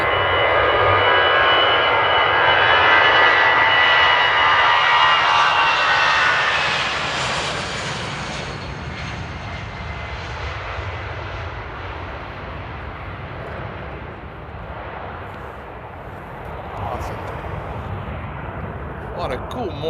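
Loud jet aircraft taking off at Amsterdam airport roar with a broad, powerful rumble that peaks in the first seconds and then eases into a sustained, steadier thrust as the plane climbs away.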